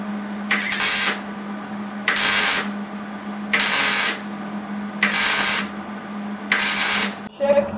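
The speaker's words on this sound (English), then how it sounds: "he's figured that it works a little better to just do little spurts, like stitch welding a bunch of little tacks next to each other." Stitch welding on thin metal of a go kart frame: five evenly spaced bursts of hissing, crackling welder noise with pauses between, over a steady electrical hum and near the microphone.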